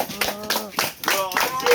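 Church congregation claps in a brisk, irregular burst of hands during a service, close and fairly loud, mixed with voices talking over it.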